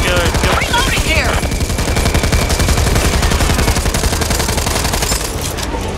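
Rapid gunfire from the co-op zombie shooter Back 4 Blood hammers on almost nonstop, with dense overlapping automatic bursts that stay loud and close for the whole stretch.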